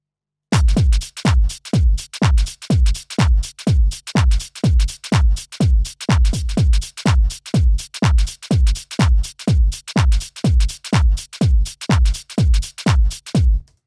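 Single drum hits generated by the Riffer MIDI plugin, a long run of punchy, evenly spaced low thuds with sharp attacks, repeating steadily at close range with no other sound.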